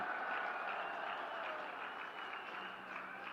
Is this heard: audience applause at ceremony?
yes